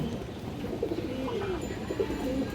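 A breeding pair of pigeons coo softly in a low, rolling rhythm, several repeated calls close by over a quiet background hum.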